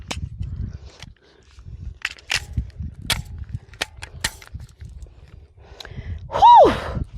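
Glock pistol fired in a series of sharp, moderately loud shots spaced a second or so apart, with faint clinks of ejected shell casings, low background rumble, and a brief whistling cry near the end.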